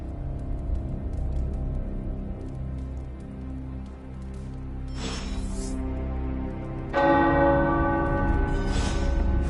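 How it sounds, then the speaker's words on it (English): Tower bells ring in Marvel's Midnight Suns, with bright resonant strikes at two points over a steady rain-like wash, loud and sustained. "The tower bells are ringing."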